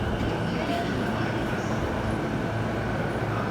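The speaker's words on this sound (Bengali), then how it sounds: "ট্রেন চলে এসছে।" A train pulls into a busy railway station platform, a steady, loud rumble of rolling wheels and carriages that fills the whole stretch without a break.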